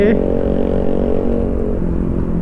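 Motorcycle engine and exhaust run steadily and loudly up close during a ride from Sukorejo, Kendal to Bawang, Batang, a continuous droning roar with no talk.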